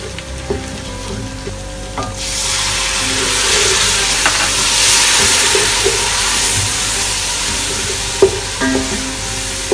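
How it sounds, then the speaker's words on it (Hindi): Garlic and ginger paste hisses and sizzles loudly in hot oil, a broad steady frying noise with occasional clicks of a utensil against the pan. "लहसुन और अदरक अच्छी तरह फ्राई हो गया।"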